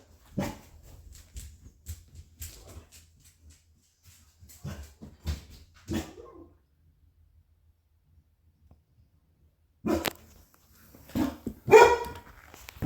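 A dog barks in scattered bursts at moderate distance, with quiet gaps between, some yips and whimpers mixed in, and no talking over it.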